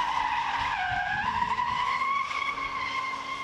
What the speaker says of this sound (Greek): Με το πόδι στο πάτωμα και το τιμόνι ανάποδα, τα λάστιχα πήραν φωτιά